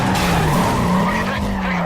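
A muscle car in the Need for Speed Carbon racing game skids in a loud, sustained tire squeal over a droning engine, continuous for the whole stretch.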